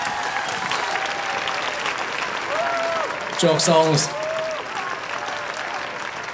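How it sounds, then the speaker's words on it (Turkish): Applause from a concert audience at a gala show fills the background, with someone speaking over it and a brief musical flourish rising midway. "Alkışlar kıymetli dostlar."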